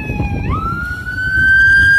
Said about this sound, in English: those sirens just sent me for a loop.